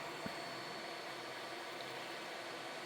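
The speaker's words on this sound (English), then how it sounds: "I have my 3D printer running, and I can't stop that." A 3D printer runs in the background, giving a faint, even whir and hiss that holds steady with no breaks and no voices over it.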